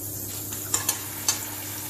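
Steady sizzling of steak frying in a hot iron pan, with a few sharp clinks of a utensil against metal.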